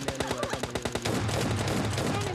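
Shotgun fire in the PUBG Mobile Lite video game: a rapid string of about ten sharp shots, followed by a dense, continuous burst of gunfire.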